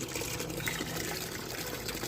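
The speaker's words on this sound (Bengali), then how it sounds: "গাছে জল দেওয়া চলছে সন্ধেবেলা" Water pouring from a watering can onto rooftop plants in the evening, a steady soft splashing trickle heard close and alone.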